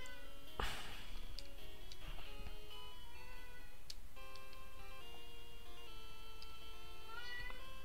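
A cat meow in the video game Pokemon Red sounds near the start over steady electronic music and soft ticking tones.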